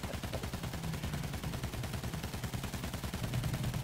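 Rapid, continuous machine-gun fire from an aircraft gunner in a flight combat video game, a dense, steady rattling burst running throughout at close, even loudness.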